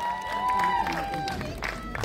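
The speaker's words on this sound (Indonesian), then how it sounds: "Sutradara, tepuk tangan untuk Inara Syarafina." An audience applauds and cheers at a press conference for an Indonesian film as the cast is introduced, moderate clapping under a sustained musical tone, with crowd noise rising toward the end.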